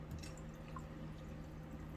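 Kirkland brand sparkling mineral water trickles and drips into an Old Fashioned cocktail in a glass, a soft steady liquid patter with faint fizzing, close and quiet throughout.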